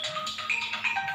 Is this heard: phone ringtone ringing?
yes